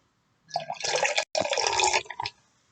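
Mountain Dew soda poured into a glass, a steady fizzing, splashing stream lasting under two seconds, close and fairly loud, with a brief pause midway and no talking.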